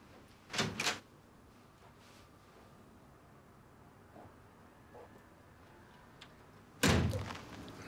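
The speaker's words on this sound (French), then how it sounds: "Tu peux ouvrir la porte ?" A door opens with a pair of loud knocking thumps early on, a few faint clicks and handling noises, then a heavier thud near the end, in a quiet indoor room.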